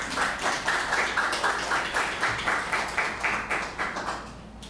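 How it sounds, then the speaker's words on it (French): An audience at a university pastoral talk on Haitian army history claps for a young political scientist, giving continuous rhythmic applause that swells in pulses and fades slightly at the end. "je vous demande d'applaudir"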